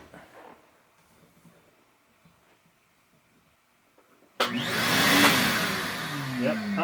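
A vacuum cleaner switches on abruptly after a few seconds of quiet room noise, then roars steadily and loudly close by.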